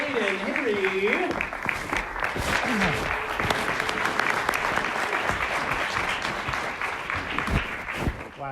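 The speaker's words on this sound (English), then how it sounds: "A big round of applause for Aydin, Hayri." Audience at a live storytelling event bursts into steady, loud applause that sustains for several seconds, with a voice speaking briefly over the start.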